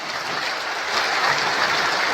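Loud, dense applause from a crowd at a Bihar government appointment-letter ceremony, a continuous wash of clapping that swells slightly midway.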